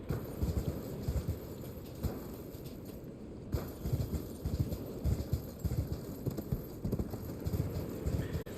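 Rapid rhythmic hoofbeats of a galloping horse in the video game Elden Ring, steady thudding clip-clop carrying on throughout at moderate volume, with no talking.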